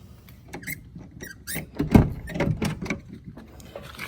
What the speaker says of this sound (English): And when you open the door